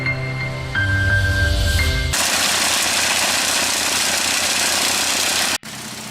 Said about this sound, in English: The Eshelbeck Biber 7 Plus wood chipper is a specialized machine designed for efficiently shredding wood, branches, and wood waste into chips.